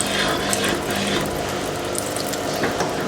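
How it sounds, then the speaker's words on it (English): A cold water solenoid on a 2002 Kelvinator K605 washing machine gives a steady mechanical whir and rattle, with water rushing through close by and no voices. "That's the cold water solenoid."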